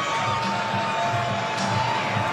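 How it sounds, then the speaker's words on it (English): A large football crowd cheers and roars at Williams-Brice Stadium during a night SEC game, a steady, dense wall of distant voices and whoops. "Terrific crowd in Williams-Brice Stadium tonight."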